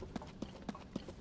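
Skeleton horse hooves in Tears of the Kingdom clop in an even, steady rhythm of four soft hits over faint, hissy background noise.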